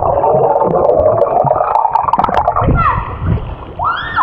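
A child jumps into a swimming pool, making a splash with watery gurgling close by, while voices call out encouragement over the noise.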